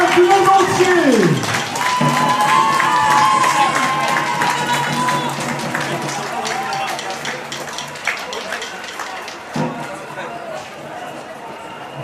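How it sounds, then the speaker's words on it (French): Crowd at the Fêtes de Wallonie applauding and cheering a stilt-walking champion outdoors, a broad wash of clapping under a loud voice and some tonal sounds, fading gradually over the span. "On applaudit la championne publique namurois et venue d'ailleurs du monde entier."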